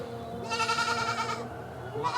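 A young goat on a small livestock farm bleats loudly and close by in a long, wavering cry, followed by the start of another bleat.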